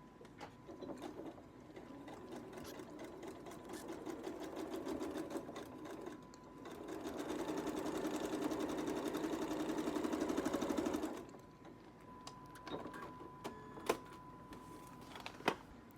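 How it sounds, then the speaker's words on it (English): Sewing machine stitching along the line of a foundation paper pieced scrappy mountain quilt block, a steady close mechanical whir with a louder sustained run in the middle of the stretch and lighter ticks around it, no talking. "And now we're just going to sew on the line."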